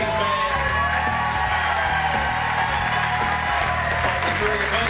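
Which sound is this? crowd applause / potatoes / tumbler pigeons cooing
crowd applause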